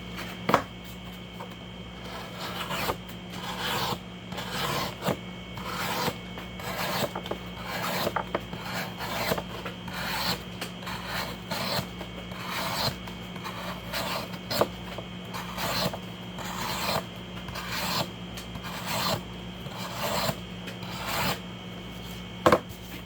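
Repeated rasping strokes of a Spyderco Para 3 knife with a Magnacut steel blade slicing through cardboard, a steady series of close scraping cuts over a constant background hum.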